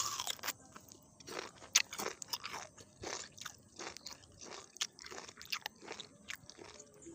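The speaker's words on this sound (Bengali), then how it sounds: "1 পিস টমাক খেয়ে বলছি তোমাদের কেমন হয়েছে" Cooked chicken liver and gizzard being bitten and chewed close up, with repeated moist crunches and soft chewing sounds in an irregular rhythm.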